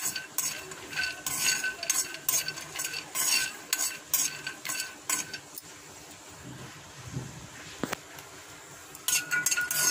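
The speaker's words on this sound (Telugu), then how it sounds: "ఒక బాండీ తీసుకుందాం, బాదం పప్పు వేసుకొని ఫ్రై చేసుకుందాం." Almonds frying in a kadai over a flame, stirred with a metal spoon: brisk, repeated scraping and clinking against the pan over a soft sizzle, pausing briefly midway before the stirring resumes.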